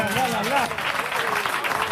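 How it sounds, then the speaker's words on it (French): A TV studio audience applauds in a steady wash of clapping while a voice talks over it. "Le public a gardé quelques applaudissements"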